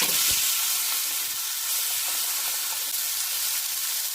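Small chuno fish hit hot oil in a wok after a nigella seed tempering, producing a loud, continuous hissing sizzle with a brief clatter at the start.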